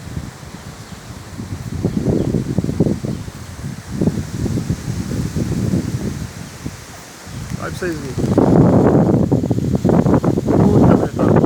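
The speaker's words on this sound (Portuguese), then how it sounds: "Muita ventania." Strong gusting wind rushing through leaves, a loud continuous rustle and microphone buffeting that swells toward the end while a person talks over it.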